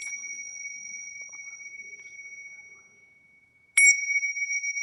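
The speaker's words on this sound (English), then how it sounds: "I'm going to ring my little bell here" A small hand bell rings out clearly, sustaining a bright tone that fades over a few seconds, then is struck again for a second sharp, ringing note near the end.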